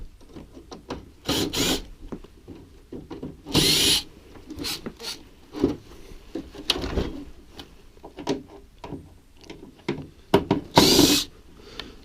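Power drill backing screws out of an air conditioner being scrapped, in several short loud bursts with pauses and clicks of handling between them, nearby.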